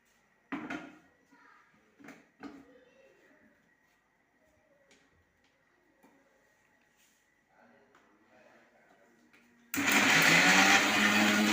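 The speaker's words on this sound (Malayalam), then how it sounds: "നമുക്കിത് ഇട്ട് അടിച്ചെടുക്കാം" A blender whirs loudly blending muskmelon juice, switching on abruptly near the end after quieter kitchen clatter and brief talk, then running steadily at full roar.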